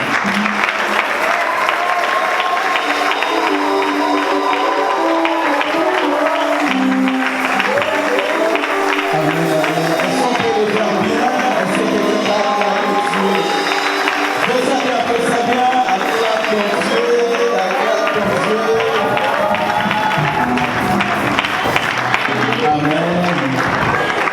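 Loud, sustained applause and cheering from a large church congregation, with voices calling out and singing over continuous clapping throughout.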